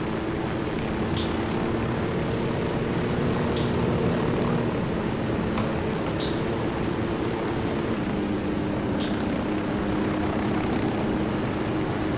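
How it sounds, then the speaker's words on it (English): A helicopter in the video game Ghost Recon Wildlands gives a steady, even rotor drone, broken by a few sharp clicks, with no speech. "I can't Get off the helicopter."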